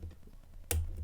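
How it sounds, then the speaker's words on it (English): A single small, sharp click from a pin setting while a Cisa Astral dimple lock is being picked, close and brief, following a faint low rustle of handling. "There, a little click."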